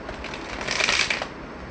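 A deck of tarot cards is shuffled up close in one brief, soft riffling burst that swells and then fades, with no speech.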